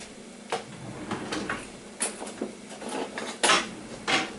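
A spoon stirs homemade chicken soup in a pot just brought to a boil, producing several distinct clanks and scrapes against the metal at irregular intervals, close and clear.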